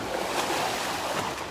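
Water sloshes and pours steadily as a flooded Pelican Trailblazer kayak is tipped and emptied outdoors, a continuous rushing wash with no talking.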